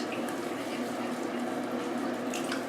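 Water squeezed out of a wet cat's fur during a bath, a loud, continuous trickling and splashing stream that runs steadily without pause, with no talking.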